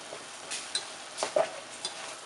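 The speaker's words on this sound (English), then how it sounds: "You just want to stir fry it as is." Minced pork stir-frying in a hot pan: a soft, steady sizzle with a few scraping stirs of a utensil, fairly quiet and close.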